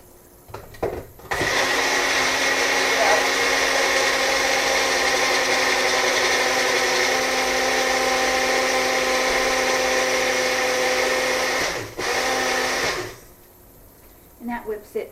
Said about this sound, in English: I have a blender. It's just a blender blade in a cup.